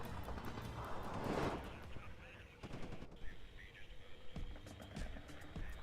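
A T-80 tank's machine gun fires in the WARNO strategy game as short rattling bursts, fairly faint amid a busy battle mix with scattered other shots.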